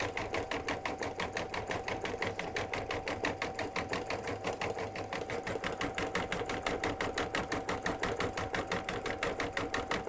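A sewing machine stitches metallic Christmas garland with a thick stitch, its steady rapid needle chatter running loud and close throughout without a break.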